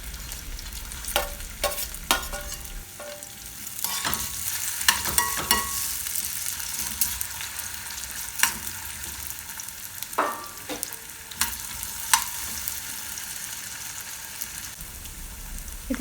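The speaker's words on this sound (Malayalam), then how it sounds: "അപ്പോൾ ഇതൊക്കെ ഒന്ന് പെട്ടെന്ന് വഴന്ന് കിട്ടും." Onions and spices sauté in a pan ahead of the potatoes, a steady soft sizzle with scattered crackles and pops and occasional stirring scrapes of a spoon against the pan, moderately close.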